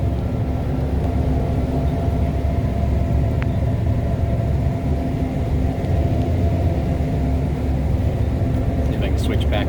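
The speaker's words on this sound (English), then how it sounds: "This combine is completely automated." Gleaner S97 combine harvester running, a loud, steady low engine rumble and drone heard from inside the cab, with a brief click near the end.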